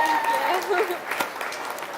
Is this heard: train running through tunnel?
no